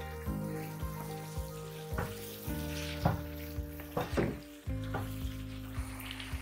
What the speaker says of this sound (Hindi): 4 से 5 मिनट तक इसको अच्छा सा फ्राई करेंगे